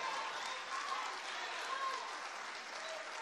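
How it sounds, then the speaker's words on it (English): Congregation at a church service clapping hands in praise, a dense, steady wash of many hands continuing throughout at moderate level, without a clear break. "Give him a hand clap of praise."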